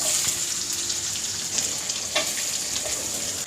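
Onion with cardamom, cinnamon, cloves and cumin frying in hot oil for veg pulao, a close, steady sizzle with crackles and a few faint clinks from stirring, no talking.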